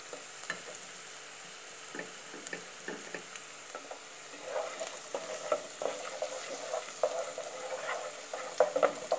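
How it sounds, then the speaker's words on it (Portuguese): Minced garlic sautéing in olive oil for a fish stroganoff, a quiet, steady sizzle broken by small ticks and pops that grow busier and louder toward the end. "Dois dentes de alhos picadinhos. Deixar ele refogar aqui no meu azeite."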